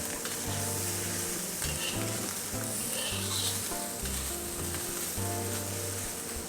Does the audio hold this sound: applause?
no